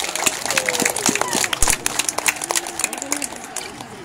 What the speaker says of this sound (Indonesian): Kita berikan aplaus yang meriah untuk Kakek Suara FC.